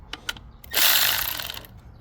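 A ratchet spins quickly while backing a bolt off a 2014 Lexus CT200h engine during valve cover gasket work. A few light clicks come first, then a close, steady burst of ratcheting lasts under a second before fading.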